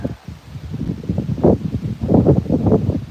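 Strong wind gusts rush through tree branches and leaves outdoors, a loud rolling rustle that swells and surges in waves with no talk over it.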